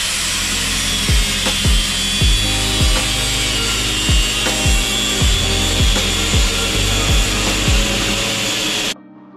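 A tool trims the bumper mount pieces on a Jaguar XJ6 Series 1. A loud, harsh cutting noise runs close and continuous, with a string of sharp rhythmic strokes, and stops abruptly at the end.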